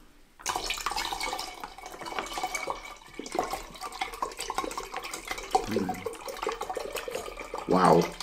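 Liquid pouring into a giant bowl of bubble tea, a steady splashing stream near the microphone, with people talking over it in the background.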